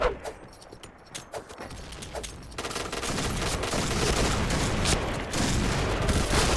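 Gunfire in a video game shooter, heard as rapid, dense bursts of shots that build into a loud, continuous fusillade, with a few scattered earlier pops and a brief voice.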